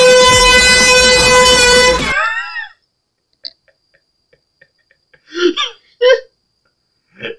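A loud air horn blasts for about two seconds in a prank, sharp and sustained before cutting off, followed by scattered yelps and startled vocal sounds.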